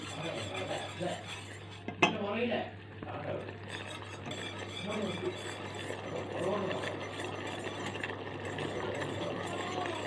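A thick porridge is stirred in a pot after ghee goes in, with soft scraping and clinks of a spoon against the pan under a low steady hum, and a voice talking quietly in the background.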